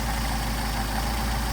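A Mercedes 190SL engine with rebuilt carburetors idles close by, giving a steady, loud, low rumble with an even pulsing beat and no change in revs.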